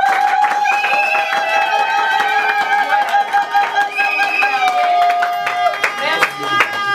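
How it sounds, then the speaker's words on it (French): Wedding guests clapping in applause as a mother is welcomed, with loud voices and singing-like tones riding over the clapping. "s'il vous plaît, avec des applaudissements?"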